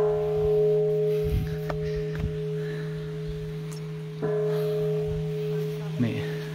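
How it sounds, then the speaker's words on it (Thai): A Japanese-style bell struck at a temple after prayer rings with sustained steady tones, with softer knocks and a faint voice now and then around it. "เพิ่นจะมีการอธิษฐานแล้วก็ตีระฆังแบบญี่ปุ่น"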